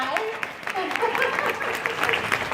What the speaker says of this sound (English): give her a big hand of applause